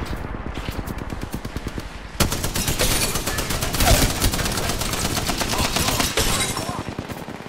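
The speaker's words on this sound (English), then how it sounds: "Broke that enemy shield. They're firing on me." Automatic gunfire in the video game Apex Legends, rapid loud bursts of shots rattling in quick succession almost throughout, with a brief drop before the firing intensifies.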